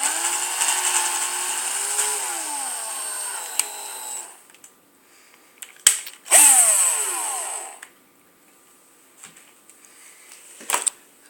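Close power drill whirring in bursts as it carves a pumpkin, pitch rising and falling as it bites into the flesh, with short grinding spurts and quiet pauses between.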